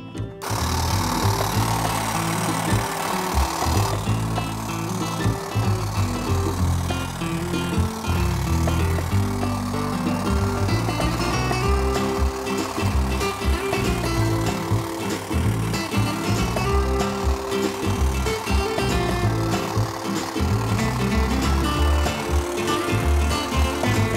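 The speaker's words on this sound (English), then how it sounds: "And then, we can start trimming this hedge." Powered hedge trimmer cutting through a garden hedge, a loud continuous buzzing drone with rattling cutter chatter running steadily for the whole stretch, close by and with no talk.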